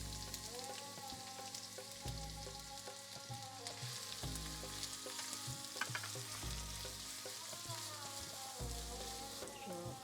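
Onion and dry chili fry quietly in a pan, a soft continuous sizzle with light crackles and a few stirring scrapes, faint and steady throughout.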